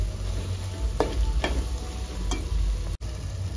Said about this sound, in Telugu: ఇప్పుడు ఇది బాగా ఫ్రై అయింది కదా